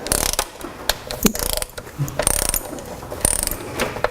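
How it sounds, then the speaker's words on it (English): A ratchet fitted with a 10 mm short socket and swivel tightening oil pan bolts, fast repeated ratcheting clicks in short bursts with pauses between, close and clear with no voice. "what you're going to have to use is a short socket, 10 millimeter,"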